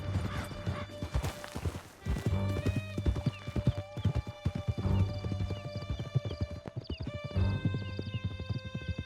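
Horses galloping hard through a canyon in Red Dead Redemption 2, hooves pounding in a fast steady rhythm close by, with a whinny and some clattering crashes mixed in.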